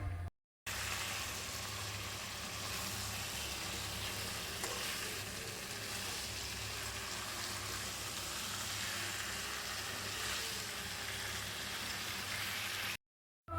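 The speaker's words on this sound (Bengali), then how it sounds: "আর মাংসটা দিয়ে আরও ভালোভাবে কষিয়ে নিতে হবে" Meat being stir-fried with spice paste in a pan for a kosha curry, a steady loud close sizzle with soft stirring scrapes running unbroken throughout.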